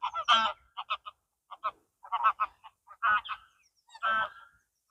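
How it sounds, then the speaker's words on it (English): Several geese honk close by in short, loud bursts, calls overlapping in irregular clusters with brief silences between. "everywhere you look, geese"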